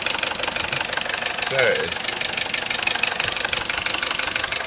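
A Vauxhall Corsa C engine idles after a new timing chain kit is fitted, giving a steady fast mechanical ticking and knocking rhythm from the back of the engine, with someone speaking briefly over it.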